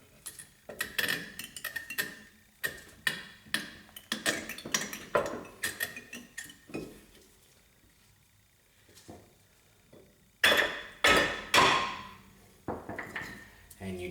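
Metal hammer blows drive a brake pad into the front caliper of a 1994-2004 Jeep Grand Cherokee, a run of sharp, close clinking strikes in uneven bursts, each followed by a short ring, with quieter pauses between.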